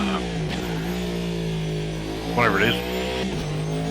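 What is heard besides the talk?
car being driven, engine revving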